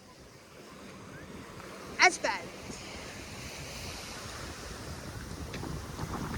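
Surf washing in at high tide under a full moon, a steady broad wash with wind noise across the microphone, with a brief voice remark near the middle.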